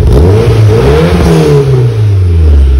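A Mitsubishi Evo 3 engine revs hard through an HKS Dragger muffler, loud and close, climbing and falling in pitch with a deep, raspy exhaust drone.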